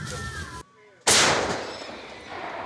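A single loud tank cannon blast cracks out after a brief hush, its boom rolling and fading slowly, with a voice talking in Ukrainian just before.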